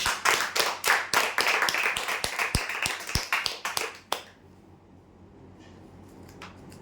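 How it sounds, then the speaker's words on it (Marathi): Audience clapping for a winner of a tea table at a prize draw, a burst of many hands applauding closely for about four seconds, then cutting off to a quiet room. "यांच्यासाठी जोरदार टाळ्या वाजवा"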